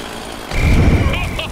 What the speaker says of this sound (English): did your mother ever tell you don't run with a chainsaw?